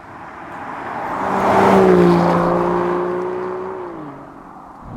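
BAE Vantare, a reworked Aston Martin DB9, driving with a smooth engine note that swells as it revs up, holds a rising tone, then shifts and fades slightly, heard up close with no talking.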